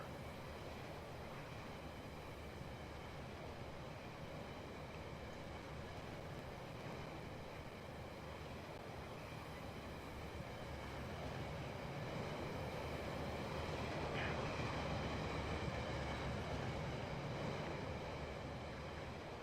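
Trains rumble steadily through the video game Rolling Line, a continuous low mechanical rolling with faint clanks and a brief high squeal near the middle, growing slightly louder toward the end, with no talking.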